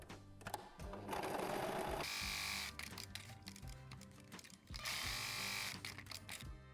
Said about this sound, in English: I'm going to fold it right sides together and sew the sides